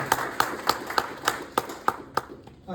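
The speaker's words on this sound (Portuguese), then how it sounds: "Um aplauso para o Roger." Sparse, evenly spaced clapping at a motivational event, a few hands beating a slow steady rhythm, fairly quiet and close.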